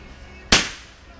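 A single .22 LR Aquila subsonic round fired, one sharp close crack with a short decaying tail, standing alone against faint background hiss.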